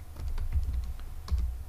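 Fast typing on a computer keyboard, a quick run of close, crisp keystrokes with slight pauses between bursts, with no talking.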